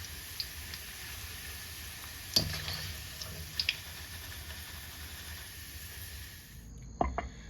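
Tofu frying in hot oil for a crispy tofu salad, a quiet, steady sizzling hiss with a few sharp clinks of a utensil against the pan before the sizzle cuts off near the end.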